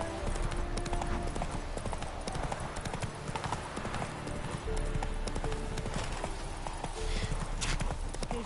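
Roach, a horse in The Witcher 3, gallops in a steady, rapid clip-clop of hooves, loud and continuous, with game ambience underneath and a brief snort or whinny.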